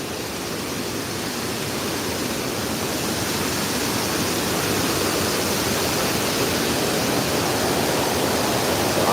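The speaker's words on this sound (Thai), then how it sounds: "น้ำตกอยู่จุดนี้นะ" Steady roar of Kuang Si Waterfall in Luang Prabang, Laos, broad and constant, growing slightly louder toward the end, with no voices.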